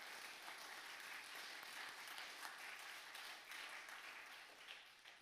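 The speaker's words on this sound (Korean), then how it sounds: "우리 감사의 박수 한번 올립시다." A church congregation applauding, a sustained wash of many hands clapping that fills the room and fades slightly toward the end, with no talk over it.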